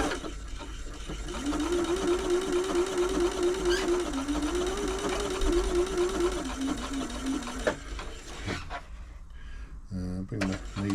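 A Janome Atelier 6 sewing machine, just serviced, runs steadily for about six seconds with a fast, even mechanical stitching rhythm, then slows and stops before a few clicks and handling noises.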